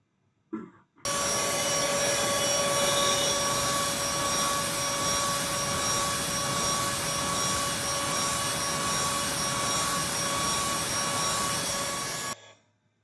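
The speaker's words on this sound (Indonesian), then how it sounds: "Berikut merupakan contoh dari mesin jig grinder." A jig grinder runs continuously with a loud, steady whine and high tonal hum, starting abruptly and cutting off cleanly after about eleven seconds.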